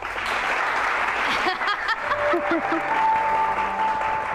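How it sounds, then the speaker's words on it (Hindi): Studio audience applause from a TV show fills the scene steadily from start to finish, with a few voices and brief tones mixed in underneath. "तालियां बजा दीजिएगा"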